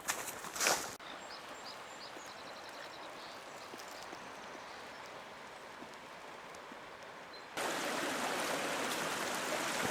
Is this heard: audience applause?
no